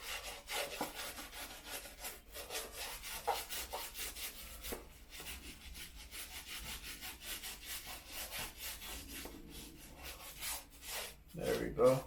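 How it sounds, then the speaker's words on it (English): Brush scrubbing a dirty Air Force One sneaker: continuous close, rapid bristly back-and-forth scrubbing strokes, fairly quiet, with a slightly louder burst near the end. "Just want to scrub that one too. The back pretty dirty too."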